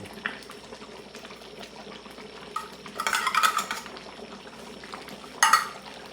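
A spoon stirs a pot of Filipino menudo on the stove, with low bubbling throughout and scraping strokes along the bottom, the clearest bursts near the middle and again near the end.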